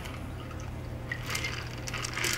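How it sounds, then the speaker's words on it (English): A chilled cocktail is strained and poured into a martini glass, a soft trickling splash of liquid over a low steady room hum, growing slightly louder toward the end. "Pour that in your martini glass."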